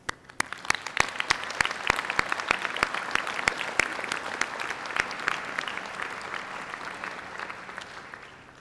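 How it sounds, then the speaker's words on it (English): Hearty, warm applause from a university honors convocation audience, steady and full with sharp individual claps standing out, tapering slightly toward the end. "now pay tribute to all of those in this room who have believed in you with a hearty, warm applause"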